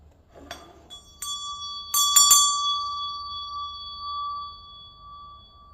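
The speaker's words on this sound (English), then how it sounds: "I'm going to ring my meditation bell just to clear out the space" A meditation bell is struck several times, its clear metallic tone ringing out and sustaining in a long, slowly fading shimmer in a quiet room, with no voices.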